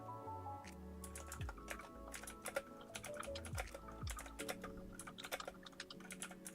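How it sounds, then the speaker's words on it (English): Fast, continuous clatter of keys on a computer keyboard during an online typing race, close and steady over a soft musical background, with no talking. "I'm actually typing 38 words per minute."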